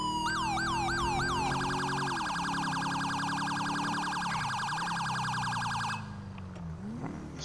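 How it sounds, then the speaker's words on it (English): Police car siren in the video game GTA V cycles through tones: a rapid yelping whoop, then a fast steady warble, then a slower rising and falling wail, loud and continuous with no talking. "Your siren tone changes, it does change the light patterns."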